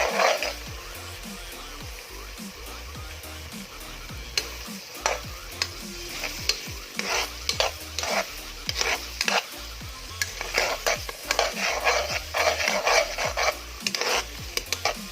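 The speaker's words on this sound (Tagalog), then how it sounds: "So, pagka nag-translucent na siya, lalagay ko na yung garlic." Garlic sautéing in a pan for pesto pasta, with a continuous low sizzle and frequent ticking, scraping strokes of a utensil. The sound is close and steady and runs throughout, with no talking.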